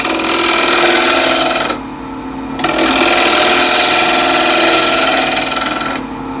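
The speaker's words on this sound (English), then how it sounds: "So the ball is running at 1200 RPM. Ball gouge, just throw up the rim here first." A bowl spins on a wood lathe at 1200 RPM while a ball gouge cuts the rim, producing a loud, steady broadband scraping roar that briefly drops off twice as the tool lifts from the wood.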